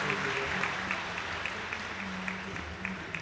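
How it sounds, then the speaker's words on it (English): A spiritual gathering breaks into steady applause, a continuous wash of many hands clapping at even loudness throughout, with a faint low hum underneath. "So everyone claps"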